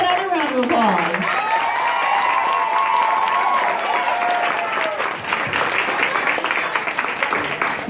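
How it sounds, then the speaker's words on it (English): Loud, sustained applause and crowd noise from an audience at a school talent show, steady clapping throughout, with a voice and whooping cheers rising over it near the start. "Give them another round of applause."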